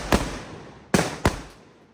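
Three sharp firecracker bangs for Diwali, one early and a close pair later, each loud and near with a short decaying tail, no talk.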